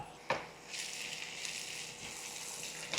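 Onions, pepper powder and green chilies fry in hot oil with a steady hissing sizzle, opened by a brief utensil clatter.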